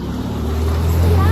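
A jet ski engine running on open water makes a loud, steady low rumble and drone close by, building slightly, with wind and water noise around it.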